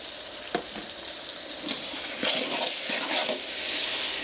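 Tomatoes for chicken biryani fry in a pan with a soft, steady hiss, broken by a few light clinks and stirring scrapes at close range.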